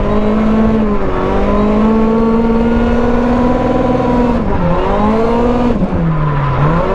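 A 1986 Toyota Corolla AE86 drifting, its engine holding a loud, steady high-revving note that dips and swells with throttle changes, while tire squeal rises near the end of the slide.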